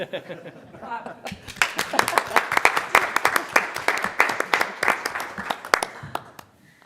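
Dense applause breaks out at a school board meeting in Utah right after an oath of office is sworn, a crowd clapping steadily for about five seconds with some laughter and chatter mixed in before it fades out.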